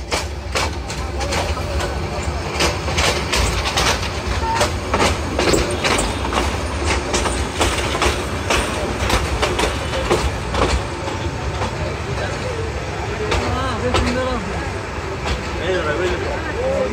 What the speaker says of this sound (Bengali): আমাদের ঢাকা অভিমুখী কিশোরগঞ্জ এক্সপ্রেস ট্রেনটি এখন কুলিয়ারচর রেল